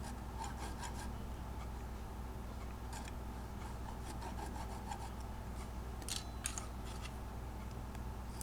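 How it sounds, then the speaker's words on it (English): Diamond nut files rasp back and forth in the string slots of a guitar nut, a faint, close scraping in quick repeated strokes with brief pauses. "And I'll start widening each string slot with nut files."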